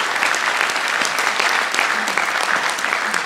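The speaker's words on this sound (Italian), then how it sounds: "io ti faccio un applauso e chiedo a voi di farlo insieme a me" Loud, dense applause from a crowd at a municipal election rally in Civitavecchia, a steady roar of many hands clapping throughout without a break.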